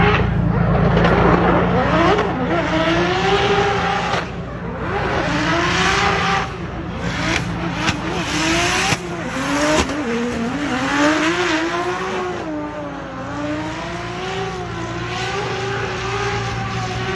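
Drift cars at a Sochi Drift Challenge 2023 training session on a snowy, near-freezing day rev hard and continuously. The loud, close engine note rises and falls through repeated acceleration sweeps, with occasional tire squeal.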